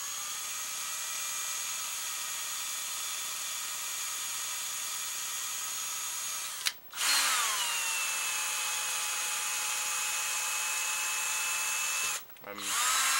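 A power drill drives into a wooden bow foregrip, whining steadily up close with two brief stops, the pitch dropping as it winds down and then restarting at full speed. No one speaks.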